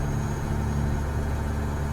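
A Freightliner FLB truck engine idles in American Truck Simulator, a steady low rumble with a constant harmonic drone, continuous and fairly loud with no talk over it.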